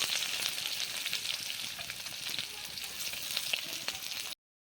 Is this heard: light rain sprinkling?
no